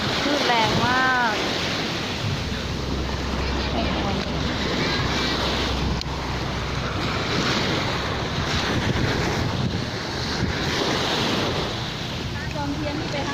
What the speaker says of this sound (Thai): คลื่นแรงมาก